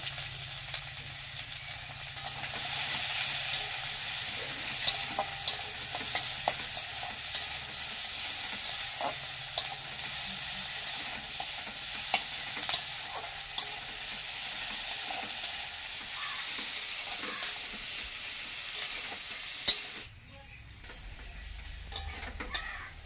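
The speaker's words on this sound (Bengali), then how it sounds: "এবার দিয়ে দেবো কাটা পেঁয়াজটা।" Chopped onion frying with cumin and a little salt in a pan, a steady bright sizzle running throughout with regular light clicks of a stirring utensil, fading at the end.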